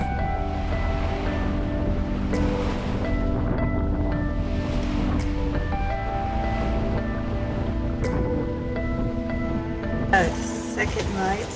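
Wind and ocean waves around a sailboat at sea on a passage to Grenada, a constant broad roar of wind buffeting the microphone with surging wash of water, loud and steady, a brief rattle near the end.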